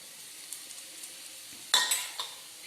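Whole fennel, cinnamon and cloves drop into hot oil in a pan for a cauliflower fry, setting off a sudden sizzling burst that fades over a second, followed by a smaller crackle, after quiet faint kitchen clinks.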